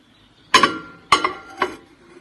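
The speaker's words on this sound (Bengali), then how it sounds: "আপনি এই বোলটাকে নিয়ে আপনি ডিরেক্ট আপনার মাইক্রোওয়েভের মধ্যে দিয়ে দেবেন" A glass bowl is set down inside a microwave, giving three sharp, ringing clinks about half a second apart, close and clear in a quiet room.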